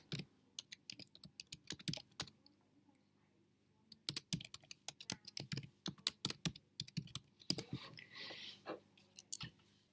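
Fast, irregular key clicks from a computer keyboard come in dense bursts with one short pause as text is entered into a presentation slide, close and clear over a quiet room.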